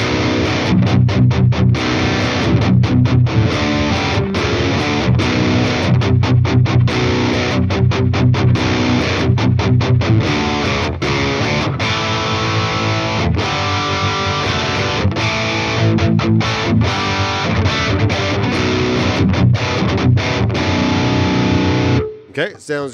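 A 7-string electric guitar runs through a Fender Tone Master Pro's petrol amp model, playing continuous distorted riffs with choppy palm-muted stops for about 22 seconds, loud and upfront, before cutting off at the end.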